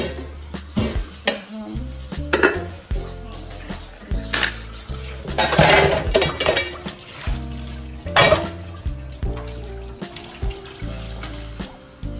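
Blender parts and dishes rinsed under a running kitchen tap, with repeated clinks and clatters of the jar, lid and utensils against the sink and splashing water throughout, close and fairly loud.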